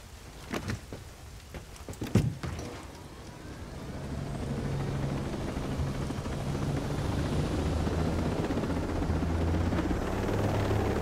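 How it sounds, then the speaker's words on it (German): A helicopter in the video game Ghost Recon Breakpoint starts with a few sharp clicks and thumps, then its engine and rotor roar builds into a loud, steady drone. "da setzen wir uns hier in den Hubschrauber"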